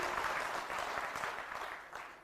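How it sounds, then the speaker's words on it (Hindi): Clapping from an audience at a religious gathering at Pandokhar Dham, a dense, bright patter of many hands that fades slightly toward the end, with no voices over it. "ताली बजा दीजिए।"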